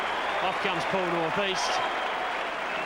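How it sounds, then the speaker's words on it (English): Sustained crowd applause and cheering at a 1990 Port versus Norwood football match as a player leaves the field, a steady wash of noise under a commentator's voice. "He gets the ovation of the crowd."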